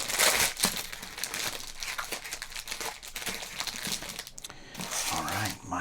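Crinkling and crumpling of a 1988 Topps baseball card pack's plastic wrapper, close and continuous, with soft talking underneath.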